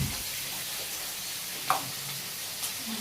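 Soybean curry sizzles steadily in a pan in a Bangladeshi village kitchen, a continuous broadband hiss with one brief clink of a utensil midway, close and unbroken by speech.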